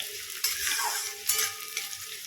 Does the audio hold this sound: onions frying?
yes